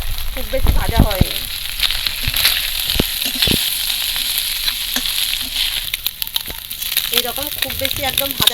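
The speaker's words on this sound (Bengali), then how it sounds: "এইরকম একদম পুরো হালকা করে মাছগুলো ভাজতে হবে" Small mourala fish fry lightly in hot oil with a constant crackling sizzle and occasional spatula taps, close by, while a voice talks over it at intervals.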